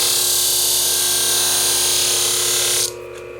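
Steel paper-cutting scissors ground against a flat hone, throwing sparks: a loud, steady, high-pitched grinding whine that holds evenly, then cuts off abruptly near the end, leaving a low hum.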